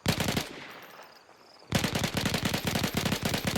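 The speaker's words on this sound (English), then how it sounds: "if you unload a couple of shots, you'll now mag dump it." Rapid automatic gunfire as a magazine is emptied in the survival game DayZ: a dense burst of shots, a pause with a faint tail of echoes, then another long, loud unbroken volley.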